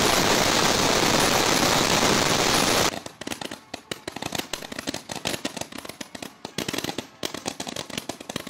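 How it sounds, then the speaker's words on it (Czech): A dense roar of hissing low-noise fireworks at a Christmas celebration in Břeclav fills the first few seconds, then gives way to rapid crackling pops and bursts that continue in quick irregular bursts. "Všichni byli zvědaví na takzvaný tichý ohňostroj."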